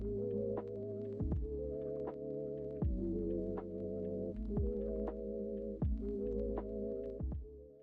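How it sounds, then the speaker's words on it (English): A sewing machine stitches a felt icing layer onto a felt Christmas pudding base, giving a quiet, steady motor hum broken by regular soft clicks. "I then used my machine again to sew the icing on top of the pudding base."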